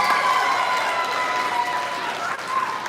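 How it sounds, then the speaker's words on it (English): Audience applause for a panel of staff judges at a Poetry Out Loud recitation contest, a steady wash of clapping with some crowd noise and faint voices mixed in, sustained and fairly even throughout. "Let's give them all a big round of applause."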